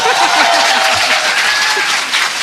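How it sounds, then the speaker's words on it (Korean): A studio audience claps briefly in a dense burst of applause, with a voice talking over it. "박수."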